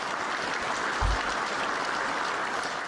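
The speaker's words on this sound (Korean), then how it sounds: "우리 같이 박수해 주시면 감사하겠습니다" Applause from a congregation at a church graduation service for an evangelism training course, a dense, even patter of many hands clapping throughout without a break.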